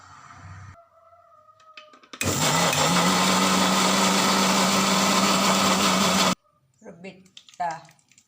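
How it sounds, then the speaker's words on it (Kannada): A kitchen mixer grinds jackfruit with chillies, cumin, pepper, salt and water in one loud, steady whirring run of about four seconds, with quieter clatter and speech before and after. "ನೀರು ಹಾಕಿ ರುಬ್ಬಿಕೊಳ್ಳುವ."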